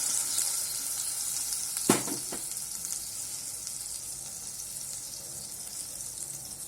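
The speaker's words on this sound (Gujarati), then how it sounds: "તેલ મૂકી દીધું છે એક મોટો ચમચો એની અંદર હિંગ નાખી દીધી છે અને હવે નાખશું આપણે સેજ હળદર અને એની અંદર આપણે આ શાકનો વઘાર કરશું" Oil with asafoetida and turmeric sizzles steadily in a pan as a vegetable curry is tempered, a constant hissing fry with one brief clatter of a spoon or vessel partway through.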